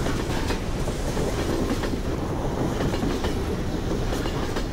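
A train rolls steadily along rails in a Half-Life 2: Episode Two mod, a loud continuous rumble with clickety-clack wheel noise throughout and no voices.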